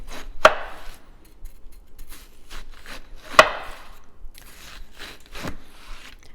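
A knife slices through a watermelon on a cutting board, with a few sharp, close chops spaced a few seconds apart and soft rubbing and scraping between them.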